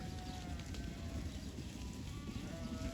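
Sheep in a big flock bleating, a few wavering calls rising out of continuous outdoor noise, moderately distant and overlapping.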